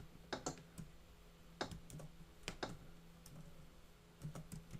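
Code being typed on a computer keyboard: irregular bursts of sharp key clicks, close and fairly quiet, with short pauses between flurries and no talking.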